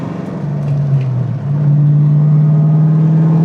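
A Ford Mustang Foxbody engine drones steadily while driving, a loud, close cabin hum that dips briefly then settles into an even, sustained pitch.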